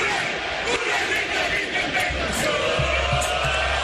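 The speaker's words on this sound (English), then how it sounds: "The chant ripples through the tailgating crowd." A large tailgating crowd of Bengals fans at a Chiefs at Bengals football game, dense roaring and chanting voices merging into a loud, continuous wash with rhythmic swells.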